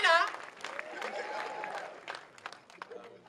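Applause from a comedy game show audience in a theatre greets the contestants, a fairly distant wash of clapping that swells briefly and then fades under a host's voice.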